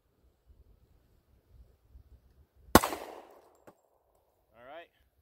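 A single sharp report from a SIG P239 pistol firing a .40 S&W Federal HST round at an outdoor range, a loud crack with a short decaying tail, then a faint click and a brief whistle-like sound; wind rumbles softly before.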